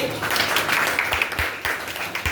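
Clapping from a group of students in a class, a brisk burst of many hands at moderate loudness that carries on for a couple of seconds.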